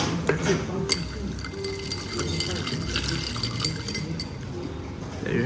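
Iced Vietnamese drip coffee is poured into a glass, with liquid trickling and ice cubes clinking sharply against the glass over a background hubbub of voices, and a person speaks nearby.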